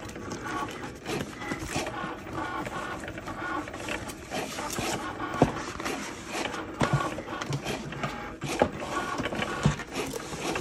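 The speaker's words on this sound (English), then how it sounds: "load this into the Cricut Maker. So while it's cutting" A Cricut Maker cutting machine cuts a design for a personalized water bottle, its motor whirring and clicking in a busy mechanical rhythm at close range.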